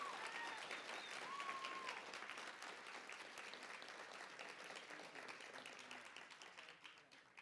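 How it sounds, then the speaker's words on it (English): An audience at a public safety department's annual awards ceremony applauds an award winner with steady, dense clapping that carries on throughout and gradually thins toward the end. "Put another round of applause for Christian Cox and all of our awardees"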